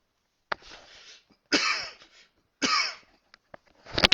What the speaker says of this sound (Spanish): Disculpen un poquito de tos